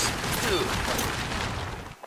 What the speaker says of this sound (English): Why are there lots of big explosions everywhere?